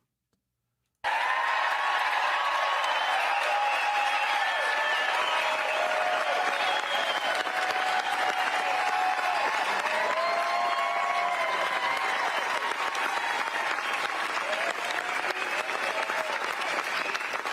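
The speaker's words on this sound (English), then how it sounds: "how long is this fucking applause?" Sustained, dense applause from a large crowd starts suddenly and continues unbroken at a loud, steady level, with scattered cheers mixed in.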